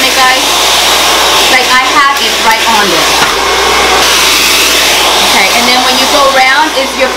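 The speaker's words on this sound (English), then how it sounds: "You need your blow dryer and the nozzle to hold the brush." A hair blow dryer with a nozzle runs loud and steady throughout, its constant whirring airflow holding a round brush while styling frizzy hair, with faint talk beneath it.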